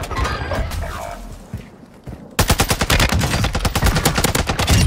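Rapid automatic gunfire from a TAQ V rifle in Warzone 2.0, a dense burst of sharp, evenly spaced shots that runs loud through the second half, after a quieter stretch of muffled game ambience and scattered thuds.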